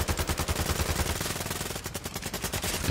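Rapid automatic gunfire in a video game, a steady stream of loud, evenly spaced bursts running the whole time with no voices over it.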